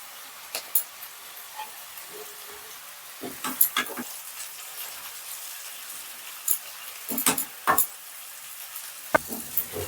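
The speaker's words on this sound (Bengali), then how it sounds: "চলো এবার চাউমিনটা দিয়ে দিচ্ছি" Chow mein stir-fried in a pan, a soft continuous sizzle with scattered sharp scrapes and clatters of stirring, moderately close and without voices.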